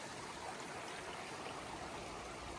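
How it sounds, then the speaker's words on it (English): Mountain runoff stream flowing across a hiking trail, a steady, even rush of water heard at low level with no voices. "There's water coming down from the mountains and I gotta get across it"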